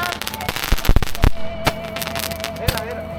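Fireworks are set off close by, giving a quick run of sharp crackling bangs and pops that sometimes overlap, with people talking in the background.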